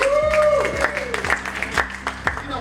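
An audience at a Chicago education summit claps after a school principal introduces himself, with applause rising and falling under and around a speaking voice.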